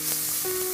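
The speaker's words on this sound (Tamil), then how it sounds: "அதை நல்லா வதக்குங்க." Masala sautés in a hot pan with a short, soft, hissing sizzle close by.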